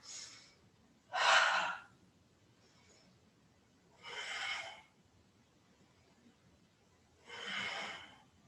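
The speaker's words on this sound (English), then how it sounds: "Inhale here, exhale, coming across." Deep yoga breaths during a vagus nerve practice, three slow breathy inhales and exhales spaced a few seconds apart, close and soft against quiet background with no talk.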